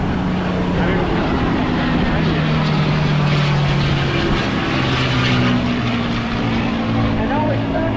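A USAF North American P-51 Mustang flies at the Fort Lauderdale Air Show, its propeller engine a steady, droning roar that holds loud and even throughout, with pitch slowly shifting as it passes.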